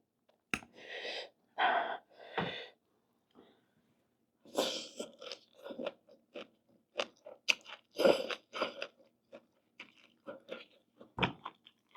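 Close, crunchy chewing on boiled vegetables during a spicy Thai noodle salad meal, with pale rice noodles and fermented fish sauce; a few separate crisp bites open, followed by a dense run of irregular munching and smacking, with no talk.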